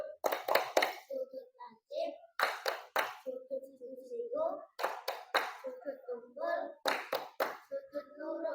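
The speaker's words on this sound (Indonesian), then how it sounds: "tepuk tangan untuk kelompoknya Mbak Ara, Mbak Kimora, dan Mbak Fatim" Several bursts of children clapping for a group of classmates in a classroom lesson, short rhythmic rounds of claps separated by a child's and adult's talking in between.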